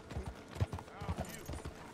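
Horse hooves clip-clop in a quick uneven rhythm in the video game Red Dead Redemption 2, under people talking; no clear neigh stands out.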